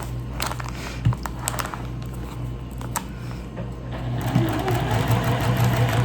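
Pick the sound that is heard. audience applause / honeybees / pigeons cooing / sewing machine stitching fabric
sewing machine stitching fabric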